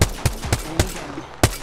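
Sharp gunshots in the battle royale game Apex Legends on the King's Canyon map, about five separate cracks at irregular intervals over a low background rumble, with no talking.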